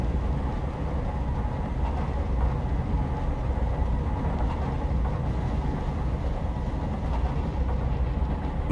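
Train rolling on rails in Train Simulator 2020 on the Columbia Valley Pacific Railway, a steady low rumble with faint clickety-clack that stays even and continuous throughout, with no voices.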